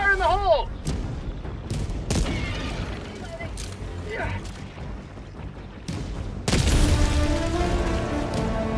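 Explosions and gunfire in the Helldivers game ring out as sharp, scattered bangs and booms, ending in a large, loud blast that rumbles on, with other battle sounds mixed in.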